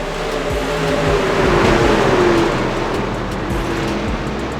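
A race car engine in the iRacing sim at Phoenix roars steadily as the driver throttles up hard off turn four, a continuous loud drone with a rising engine tone and no talk over it.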